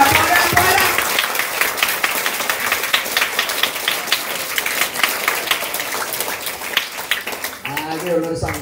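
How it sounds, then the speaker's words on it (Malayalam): A school assembly bursts into sustained, crackling applause for teachers and the vicar, many hands clapping close by. Voices begin talking as the clapping fades at the end. "നല്ലൊരു കയ്യടി"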